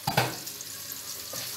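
Spice paste (bumbu) sautéing in a home pan while cooking lontong balap: a soft, steady sizzle with a couple of stirring scrapes near the start, close and fairly quiet, no talking.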